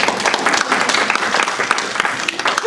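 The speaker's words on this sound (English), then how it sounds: "ladies and gentlemen, please applaud for Leanne." A live audience at a community talk gives Leanne a round of applause, dense, lively clapping throughout with faint voices mixed in.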